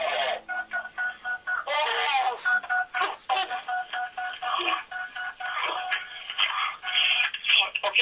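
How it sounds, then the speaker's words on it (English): A telephone call is dialed, with a run of short electronic keypad tones and line beeps sounding fairly clearly, mixed with faint muffled voice-like sounds on the line. "Here is that first phone call now"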